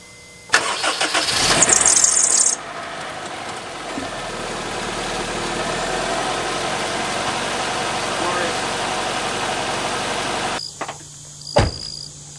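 A Honda CR-V engine cranks and catches with a loud burst, then settles into a steady, even idle for several seconds before cutting off, followed by a brief clunk.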